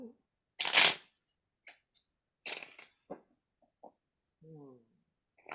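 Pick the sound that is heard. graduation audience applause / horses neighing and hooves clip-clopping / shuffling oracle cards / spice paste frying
shuffling oracle cards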